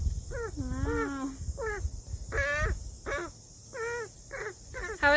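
Several harsh crow caws repeat close by, some drawn out and wavering, others short, with brief gaps between calls.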